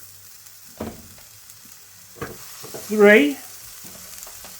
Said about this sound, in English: we're going to get these burgers on mighty rapid before that loses heat